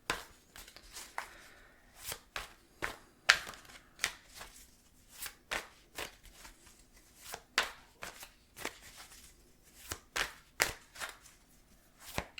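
Tarot cards shuffled by hand in a close, quiet setting, giving a steady run of crisp riffling bursts and soft slaps spaced about half a second to a second apart, with no talking.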